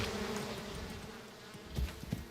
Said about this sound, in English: Hang on a second, the bees are going to attack us.